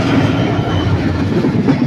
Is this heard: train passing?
yes